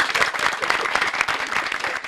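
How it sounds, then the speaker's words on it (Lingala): A crowd applauds a choir at a performance in Kinshasa, with dense, sustained clapping throughout, loud and close. "Alors, on acclame très fort."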